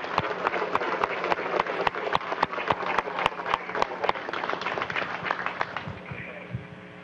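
Audience at a Venezuelan army ceremony applauding the Simón Bolívar infantry battalion, with sharp, regular rhythmic clapping over a low hum that fades toward the end.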